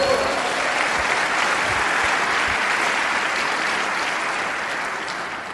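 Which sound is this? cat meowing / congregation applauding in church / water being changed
congregation applauding in church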